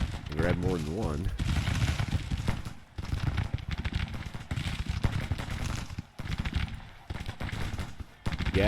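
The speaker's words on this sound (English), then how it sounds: "Gatling guns, coffee mill guns" Gatling guns, the coffee mill guns of the Grand Tactician battle game, firing in dense continuous rattling bursts with brief gaps, loud and close amid battle noise.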